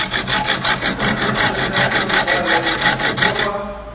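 A hand saw cuts with steady back-and-forth strokes, about fifteen rasping passes at an even rhythm, loud and close, and stops abruptly near the end.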